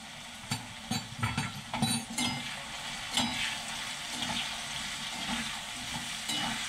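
Soybean mince fries with salt and turmeric in a pan, giving a steady, close sizzle. A spoon scrapes and clatters irregularly in the first seconds, then the frying continues alone.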